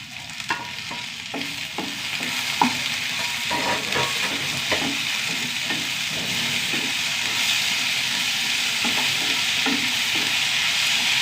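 Tomatoes sautéing with shallots and onion in a pan for sambar, a continuous close sizzle broken by regular scraping stirs that quieten slightly toward the end.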